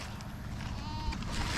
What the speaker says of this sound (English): Let's go ahead and get the goats some hay.